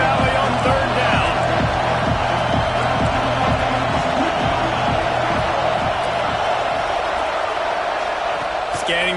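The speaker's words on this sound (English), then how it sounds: "Here comes the noise from this big crowd in Happy Valley on third down." A big crowd at a Penn State football game against Iowa in Happy Valley roars in a sustained wall of cheering on third down, loud and continuous, with a commentator's voice and rhythmic thumps underneath.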